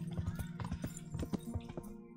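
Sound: horse riding hoofbeats in video game Kingdom Come: Deliverance

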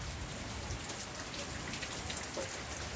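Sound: rain falling in the Pernambuco backcountry

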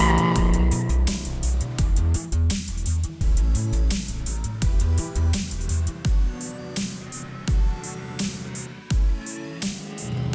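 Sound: 1956 Chevrolet Bel Air with LS3 engine driving

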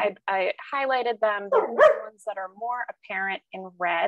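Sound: dog barking

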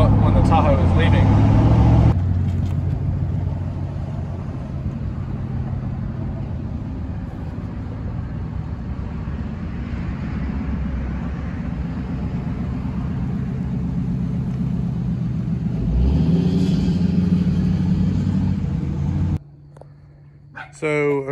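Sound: Chevrolet Tahoe being driven

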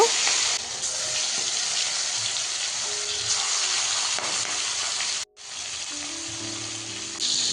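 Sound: prawns frying in oil

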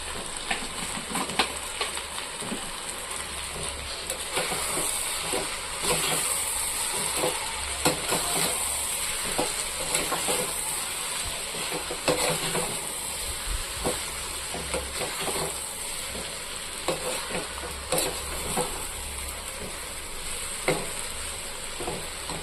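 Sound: stirring and sautéing masala in frying pan

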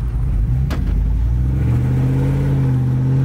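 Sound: truck engine running

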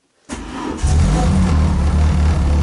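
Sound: Renault Clio 2 RS engine starting for first time

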